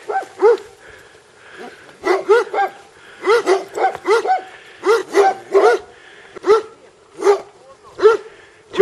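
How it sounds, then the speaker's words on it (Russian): Several dogs bark repeatedly near a mountain-bike trail by streams around Ein Karem, Jerusalem, in loud irregular bursts of barks and yips with a few short gaps between them. "Все собачки."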